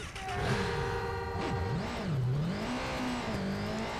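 A motorbike engine revs in Watch Dogs 2, its pitch swooping down and up in loud, close wavering sweeps over a dense roar of game traffic.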